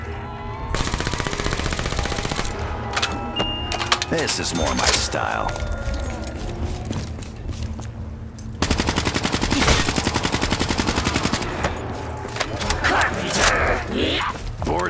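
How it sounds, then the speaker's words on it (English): Rapid automatic gunfire rattles in Call of Duty's Der Eisendrache castle zombies map, long bursts of shots filling the scene, loud and near, with someone talking over parts of it. "I'll shoot my way out of this castle if I have to."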